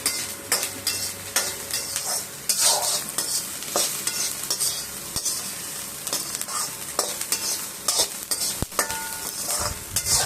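Ivy gourd sautéing in a pan for a pachadi, with a steady close sizzle broken by repeated scraping stir strokes and the odd clink of the spatula against the pan.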